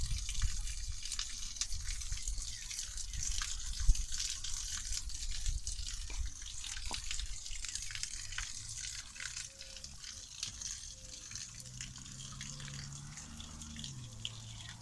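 A small waterfall in a city pond in Goryachy Klyuch, a continuous close trickle and splash of falling water that stays fairly quiet and steady.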